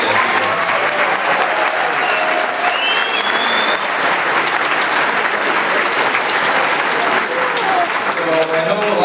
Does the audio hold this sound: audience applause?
yes